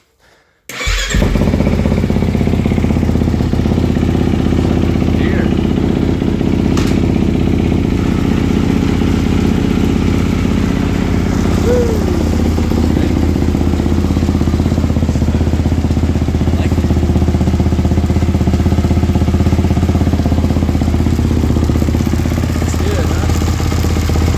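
A 2022 Kawasaki KX450F dirt bike engine starts after a short silence and then runs steadily, a loud, close, rough four-stroke idle with some mechanical clatter that continues to the end.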